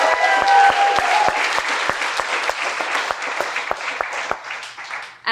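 Wedding guests at a Destin, Florida reception applaud the bride during the toasts, a room of clapping with a few sharp nearby claps standing out, fading gradually over five seconds.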